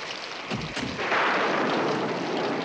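Heavy rain that may be a staged effect, heard as a steady loud hiss building after a couple of deep booms, likely thunder, early on, then pouring on without a break.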